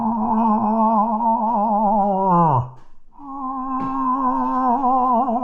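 A man imitates a cow moose in heat with his voice. He gives a long, wavering, nasal moan that bends downward and cuts off, then a second drawn-out moan after a short pause, loud and close.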